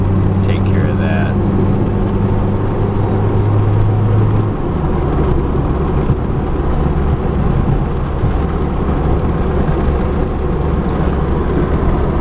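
A 1995 Toyota Paseo engine running while the car drives, a loud, continuous low rumble heard from inside the cabin, with a higher whine at first that drops away partway through.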